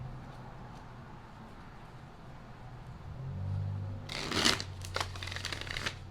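Tarot deck riffled and shuffled by hand, a soft papery flutter of cards that builds into a brisk, close burst of shuffling after a quiet stretch of low background hum.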